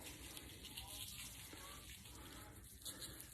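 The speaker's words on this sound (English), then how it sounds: "I'll rinse it off with some soap and water" Running tap water while rinsing something off with soap in a kitchen during turkey preparation, a faint, steady gushing wash heard alone throughout.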